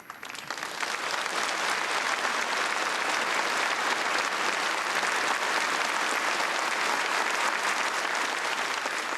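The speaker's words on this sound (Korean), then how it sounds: "우리 꼬마 재간둥이들에게 다시 한번 축하의 박수를 보내줍시다." Sustained audience applause at a children's union celebration stage performance, rising quickly after the first second and holding a steady, dense roar of many hands.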